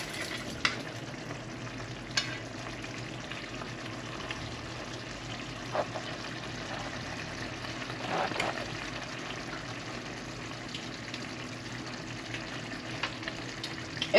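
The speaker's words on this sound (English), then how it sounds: "Mix that gravy around just a little bit." Alligator curry gravy is stirred in a pot, a steady soft sizzling simmer with a few faint scrapes of a spoon, close and continuous with no talking.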